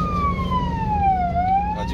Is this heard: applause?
no